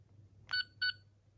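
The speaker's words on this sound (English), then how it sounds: "you'll get 2 beeps" A Fourteenth Doctor sonic screwdriver toy gives two short, clear electronic beeps in quick succession against a quiet background.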